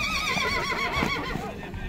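A large black horse at an open-air horse market neighs loudly, a long wavering whinny close by over a busy crowd background.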